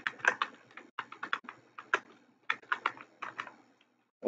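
Rapid keystrokes on a computer keyboard while entering names into an Excel spreadsheet, clicking in short uneven bursts with brief pauses between words, close and clear with no talking.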